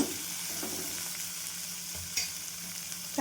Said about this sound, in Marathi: हे पण छान परतून घ्यायचं तेलामध्ये